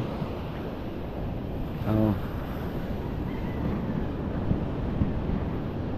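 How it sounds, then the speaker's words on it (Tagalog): Big ocean waves rolling in, a steady broad surf wash with wind buffeting the microphone, and a brief tonal sound partway through. "Lalaki pa rin ng alon mga kahaw."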